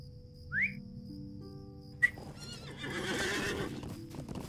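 A horse in the Lord of the Rings Online game gives a brief whinny, then a soft snort and a stretch of hoof movement over ambient game sound, moderately close and fairly quiet.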